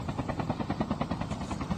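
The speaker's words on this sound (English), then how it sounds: "They got a helicopter to use to their advantage" Helicopter in COD Mobile, a steady rapid rotor thump with a whining engine drone, close and continuous.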